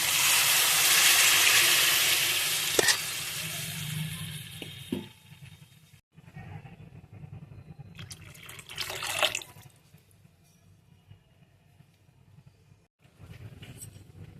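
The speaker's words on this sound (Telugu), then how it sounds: "వాటర్ పోసుకున్నాం." Water pours noisily into a pot for cooking rice for biryani for several seconds, then stops; a few clinks and a second short pour follow.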